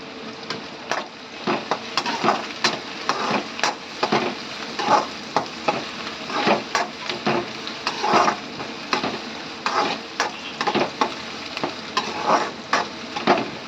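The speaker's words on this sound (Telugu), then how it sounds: "15 నిమిషాలు దోరగా వేగాలి." Chicken pieces frying in a pan for chicken fry, stirred with repeated scraping strokes over a steady sizzle, the rhythmic scrapes loud and close against continuous hissing oil.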